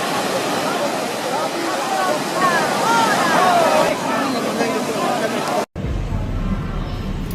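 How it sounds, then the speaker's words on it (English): Massive storm waves crash against a cruise ship en route to Cape Horn, a loud roaring wash of water and wind that cuts off abruptly near the end. "On the way to Cape Horn, the cruise ship encountered massive waves."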